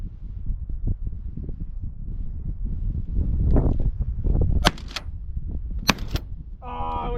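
Shotgun shots fired while pigeon hunting outdoors, two sharp loud reports a second or so apart over steady wind noise and rustling, with a voice speaking right at the end.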